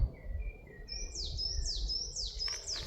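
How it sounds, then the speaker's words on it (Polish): Birds singing nearby: a series of clear, repeated high whistling notes, some sliding downward, over faint low background rumble. "Ptaszki śpiewają."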